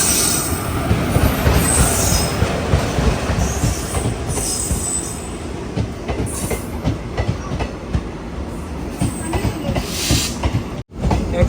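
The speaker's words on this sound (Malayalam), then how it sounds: "Kannur Alappuzha executive express." Kannur–Alappuzha Executive Express passing at a station, a continuous loud rumble of wagons with wheel clatter and squealing throughout, ending abruptly.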